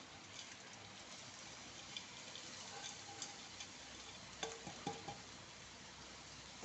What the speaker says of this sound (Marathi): एक दोन मिनिट आपली डाळ चांगली तेलात मसाल्यात परतून दिली